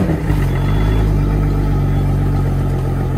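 A boat engine fitted with a Fell Marine 1st Mate wireless kill switch runs on a trailer, fed by running water. It starts with a brief catch, then settles into a steady, loud, close idle with a low droning throb.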